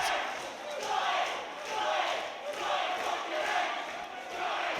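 Crowd noise at a boxing match, a dense roar of cheering and shouting that swells and dips in waves across the whole stretch, with a commentator's voice faintly mixed in.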